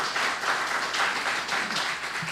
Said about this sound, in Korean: 큰 박수로 감사를 표시하기 바랍니다